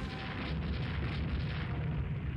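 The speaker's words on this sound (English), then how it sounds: "Those auto cannons." Naval auto cannons fire in the Rule the Waves 2 naval battle game, a dense, sustained low rumbling roar of rapid fire blended with distant booms, steady and loud with no speech over it.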